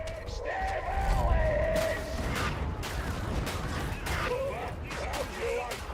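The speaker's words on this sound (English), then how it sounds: "That's a lot of explosions." Explosions and gunfire fill a shooter video game in a steady, dense barrage, with booms and crashes layered over one another. A streamer's voice is heard faintly under the noise.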